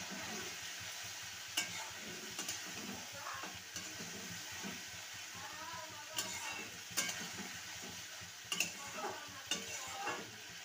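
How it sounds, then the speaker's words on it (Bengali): Potato and eggplant stir-fried with spice masala for a fish curry, a steady moderate sizzle broken by repeated scraping and clinking stirs of the spatula against the pan, with no talk. "মশলার সাথে আলু আর বেগুনকে ভালো মতন কষিয়ে নিয়েছি"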